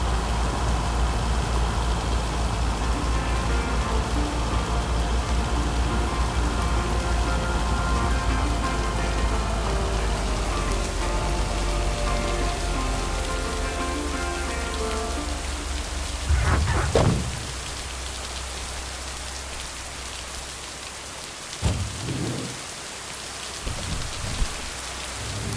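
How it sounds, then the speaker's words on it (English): Rain falling in the video game Lake, a steady dense patter over soft background music that fades out, followed by a few isolated thumps. "Now let's see if it will keep raining cats and dogs."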